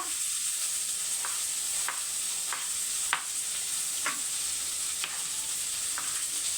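Onions sautéing in a pan for a country chicken curry give a steady soft sizzle, with faint periodic scrapes or taps of a stirring spoon about every second, alone with no talk.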